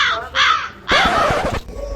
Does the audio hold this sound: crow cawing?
yes